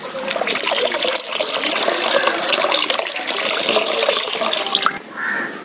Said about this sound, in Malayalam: ഇതിൽ നിന്ന് 1 ലിറ്ററാണ് 7 ലിറ്റർ വെള്ളത്തിൽ ഒഴിക്കാൻ പോവുകയാണ്